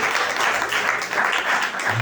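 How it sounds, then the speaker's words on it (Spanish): A church congregation applauds during a service, a short burst of dense, steady clapping that fills the room at full strength. "Démosle un aplauso a Jesús."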